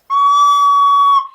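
A shrill, steady squeak from a recorder with a finger hole not fully covered, one sustained high whistling note held for just over a second, loud and close, then cutting off.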